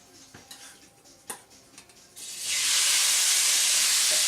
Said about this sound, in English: Ready for some sizzling?